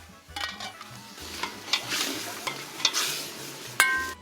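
Mutton sizzling in aromatic spices over high heat for a Kashmiri wazwan dish, a steady frying hiss with intermittent scraping and clinks of a stirring utensil against the pot, close and moderately quiet.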